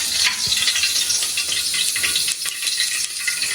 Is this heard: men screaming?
no